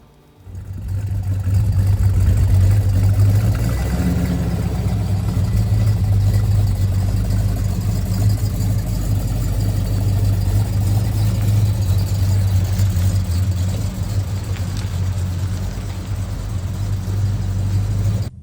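A 1970 Dodge Charger's engine starts and settles into a steady, loud, deep rumble that holds close and even throughout, with a slight lift in pitch early on and no voices.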